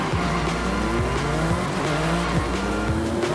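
A car launching with launch control in Forza Horizon 5, a loud racing engine revving up through several quick gear shifts in a rising, stepped pattern, with tire squeal and game audio around it.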